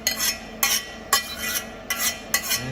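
Shallot sauce for steamed plaice being scraped and pushed into a clean pan, heard as about five rhythmic metallic scraping strokes, close and evenly spaced.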